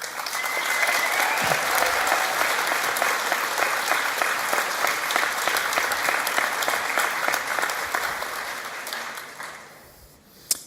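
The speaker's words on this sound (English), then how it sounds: "those graduating would wish to applaud you just one more time" Sustained applause from a large audience at a college graduation ceremony, dense steady clapping that fills the hall for about ten seconds before tapering off.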